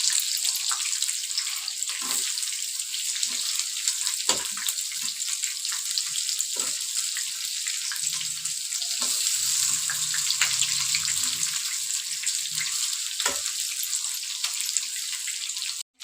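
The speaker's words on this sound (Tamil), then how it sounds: "நம்ம அதை திருப்பி இன்னொரு சைடு ஃப்ரை பண்ண போட்டுக்கலாம்" Chicken lollipops frying in oil on their second side, giving a steady bright hiss with scattered pops and crackles throughout, and no voices.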